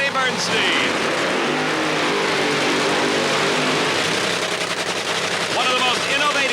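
Kenny Bernstein's Ford Tempo drag racing funny car at the 1986 NHRA Summer Nationals roars loud and steady throughout, a dense, unbroken engine blast with no gaps.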